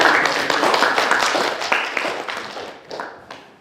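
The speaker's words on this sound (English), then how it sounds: "let's give her a round of applause for coming back to Grinnell" Audience applause welcoming a returning Grinnell alumna at a campus talk: dense, lively clapping at first that gradually thins into scattered, fading claps before dying away.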